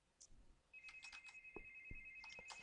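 A cell phone rings at low volume: a steady electronic ringtone with a repeating chirping pattern, heard alone with faint low thumps underneath.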